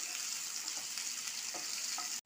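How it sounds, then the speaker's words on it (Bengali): Chopped onion sizzles and crackles steadily in hot oil with garam masala, a dense continuous fry with a few stirring scrapes, close and fairly loud, then cutting off abruptly at the end. "এবার আমি পেঁয়াজ কুচিগুলো তুলে দিলাম।"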